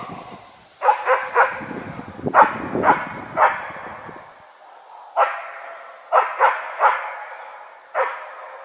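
A male Laika hunting dog barks in Yakutia, with repeated sharp bursts in uneven clusters, moderately distant, over quiet outdoor background with a little rustling early on.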